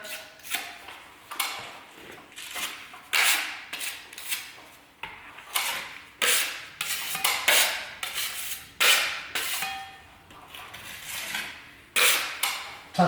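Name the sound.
skimming filler compound over a ceiling crack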